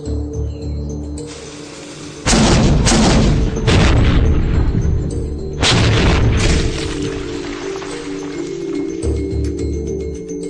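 A small cannon fires a 1.5 kg cannonball at a solid oak target on a small powder charge. Several loud, booming blasts follow one another, each trailing into a rumbling decay.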